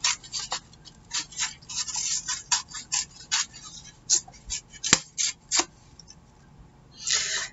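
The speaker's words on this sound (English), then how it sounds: "And now I'm just going to tear them out." Paper dictionary pages being torn out of a book, a close series of short ripping bursts separated by brief pauses, ending with a longer tear.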